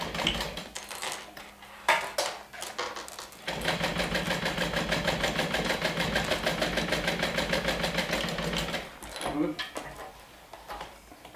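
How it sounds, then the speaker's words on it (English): A sewing machine runs a 3/8-inch seam on a sport bag, starting with a few uneven clicks and short bursts, then a long steady rapid whirring stitch run before slowing and stopping. "we're going to stitch with a 3/8 of an inch seam allowance"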